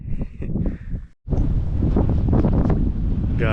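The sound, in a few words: strong wind blowing in desert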